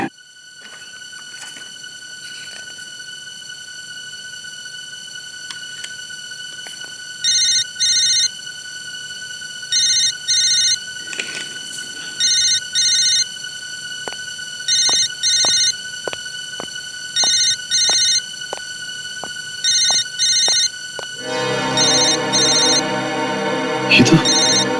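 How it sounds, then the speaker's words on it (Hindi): A mobile phone ringtone repeats in short regular bursts, sounding again and again across a quiet room during a crime investigation scene, before a louder stretch of noise and movement at the end. "बार बार क्यों फोन आ रहे हैं इसके?"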